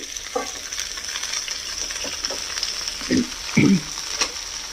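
Finely shredded cabbage sizzles in a hot pan over garlic, a constant frying hiss broken by a few scraping stirs of a utensil, the strongest near the end.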